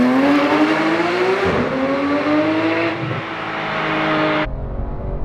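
Porsche 991 911 GT3 launching hard, its engine screaming upward through the revs in rising sweeps, with brief dips at the shifts before the sound cuts off abruptly near the end, loud and close.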